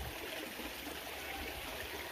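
Small river flowing at a bend near Semeru, a faint steady babble and trickle of water with no pauses.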